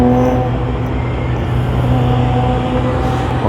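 A Nissan R34 GT-R race car with splitters passing at Fuji Speedway, a loud, steady engine drone with a sustained note that holds throughout, close and prominent with no talking.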